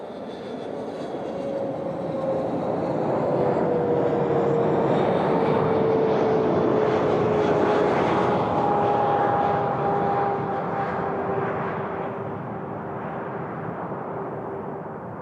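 An Air Canada airliner departs Toronto Pearson airport, its engines roaring as a broad, steady rush that swells and holds for a long stretch, with a faint whining tone drifting through it, then begins to fade slightly at the end.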